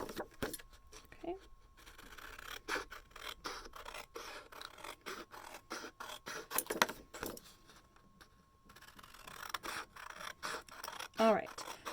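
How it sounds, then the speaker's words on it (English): Scissors snip through paper while little printed images are cut out, giving close, quiet, irregular cuts and rustles of handled paper, with a person talking softly at times. "So now I'm going to go in with my scissors, and I'm actually going to cut out some of these little images here."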